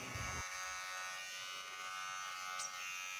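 An electric hair trimmer buzzes steadily and close, a constant high whine cutting a child's hair into a short boy cut, with no talking.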